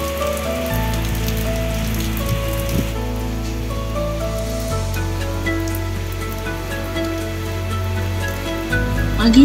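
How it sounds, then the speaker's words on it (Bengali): Heavy rain pours down during Cyclone Remal in 2024, a steady, dense hiss of drops striking surfaces that continues without a break for the whole stretch, with no voices over it. "তারপর যখন বৃষ্টি আরম্ভ হলো, বৃষ্টির সাথে ঝড়ও হচ্ছিল।"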